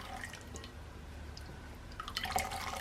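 Hot yarrow tea drips and trickles from a wrung-out cloth in faint, irregular droplets that grow denser toward the end, close and quiet.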